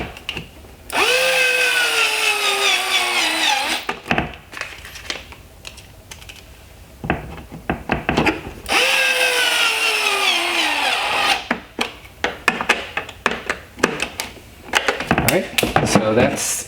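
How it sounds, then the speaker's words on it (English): Cordless power driver running T20 Torx screws into an Audi A5 or S5 headlight repair tab, two rising whirring bursts each ending in a ratcheting clatter as the screw seats, with clicks and handling noise between them. "we'll take 2 of the T20 torque screws and we'll go ahead and get these installed."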